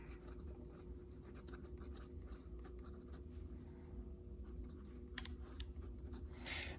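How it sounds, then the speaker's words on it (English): A Santini Italia Libra fountain pen with a very wet nib writes on a Write Notepads Landscape Notebook page, its soft, steady scratching running close for the whole stretch over a constant low background hum. "So here is here's a writing sample of this pen. As you can see, it's a very wet writer."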